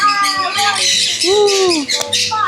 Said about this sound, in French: Il y a tous les oiseaux en liberté, ils volent partout.